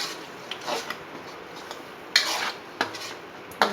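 Onion tomato chutney being sautéed and stirred in a pan, with soft scraping and intermittent clinks of a spoon against the metal over a faint sizzle, close and moderately quiet.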